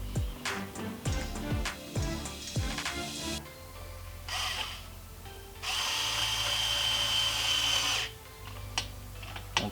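A power drill drives small 1.5 mm screws into a McAllister body kit on a street stock race car: several short whirring bursts, then a pause and one longer sustained drive.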